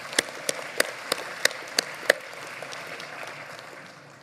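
At an election results announcement, a small audience claps a few times, seven sharp separate claps in a loose rhythm before the sound thins into a faint background hiss.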